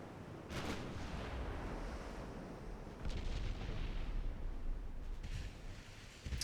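Booming 11-inch naval guns fire in a warship battle game, a few deep heavy blasts at intervals over a constant rumbling sea-like background.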